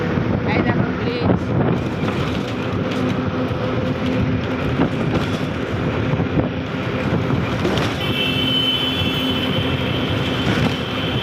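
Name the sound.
train arriving at Howrah station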